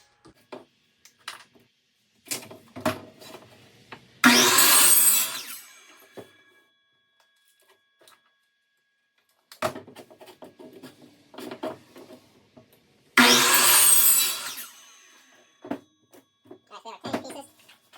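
Two-inch PVC pipe is cut into pieces in two separate bursts of loud, close, rough sawing, each lasting about one to two seconds, with scattered knocks and handling noises around them.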